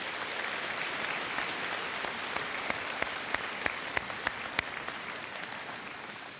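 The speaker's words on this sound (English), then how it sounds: "Let's give them a round of applause, please." Crowd applause at a high school graduation ceremony, a sustained wash of clapping from a large audience with a few sharp, louder claps standing out nearby.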